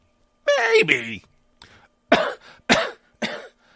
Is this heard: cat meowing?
no